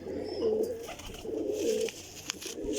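A teddy pigeon coos close by in soft, low, throaty phrases that repeat at an easy rhythm. Faint chirps and light background noise sit underneath.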